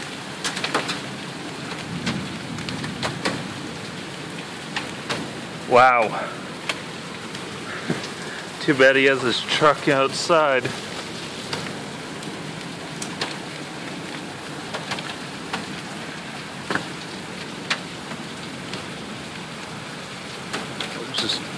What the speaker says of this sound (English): it's starting to hail again.